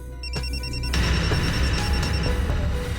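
A mobile phone rings with a repeating electronic beeping tone that runs for about a second, then gives way to a loud, dense rumble of background sound with a few sharp knocks.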